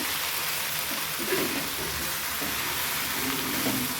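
Okra (bhendi) frying and steaming in a pan over a medium gas flame gives a steady, close, dense sizzle with faint stirring scrapes throughout.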